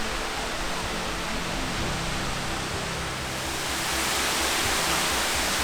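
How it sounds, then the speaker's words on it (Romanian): Steady, full-bodied roar of the Vânturătoarea waterfall in Romania heard close to its base, a continuous broadband rush of falling water with no pauses or voices. "Până la baza cascadei nu mai erau decât 2 pași."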